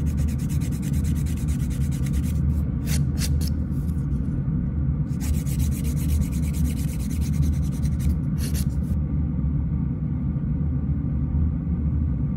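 Nail file rubbing back and forth over fingernails during a manicure, a steady close scratchy rasp with a few brief sharper strokes, no talk.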